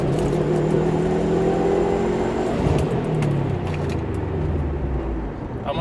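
A 2010 Subaru WRX STI fitted with an OBX Racing catback exhaust drives along, its steady engine and exhaust drone loud and close throughout with a slight rise and fall in revs and no talking.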